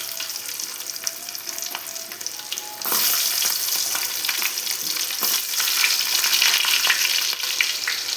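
Cumin and fenugreek seeds splutter in hot oil for a Tamil fish curry, a steady sizzling crackle that grows louder and busier partway through, with scattered sharp pops and no voices.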